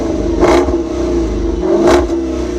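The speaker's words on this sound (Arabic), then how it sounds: "هيدي المكنه عليها اكزوست بورلا" A Jeep Cherokee SRT engine fitted with a Borla exhaust revs twice in loud, close blips, with a steady throaty exhaust drone in between.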